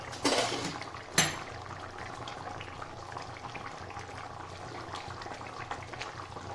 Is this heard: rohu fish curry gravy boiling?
yes